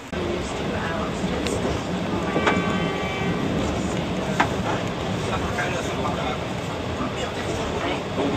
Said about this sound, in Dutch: En dit is eh, dan de trein waar we mee vertrekken.